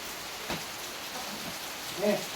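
Rain falls steadily at an old village house in Konkan, a soft continuous patter close by with no other sound standing out, apart from a brief voice near the end.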